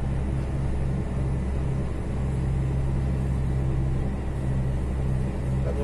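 A small truck driving along a road in Uruguay, its engine giving a steady, close low rumble that holds evenly throughout with no talk over it.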